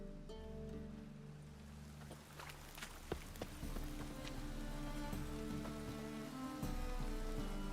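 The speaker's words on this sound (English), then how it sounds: "Rain again." Steady rain pattering in The Witcher 3 video game, a continuous close patter with scattered drips over a low ambient hum, no voices.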